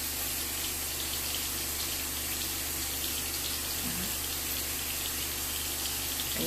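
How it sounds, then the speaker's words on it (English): Steady hiss of tap water running from a faucet while a soapy cotton swab is held under the stream, a constant close, unbroken wash with no speech. "And I'm going to put it up under the water."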